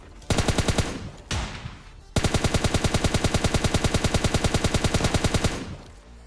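Rapid automatic gunfire in PUBG Lite, a short loud burst, a brief pause, then a long sustained stream of evenly spaced shots at close range that tails off near the end.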